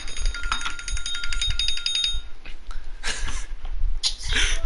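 Halftime buzzer from the NBA 2K20 basketball video game, a loud electronic tone with a stacked harmonic, ringing steadily for about two seconds and then giving way to game crowd noise and further short electronic sounds.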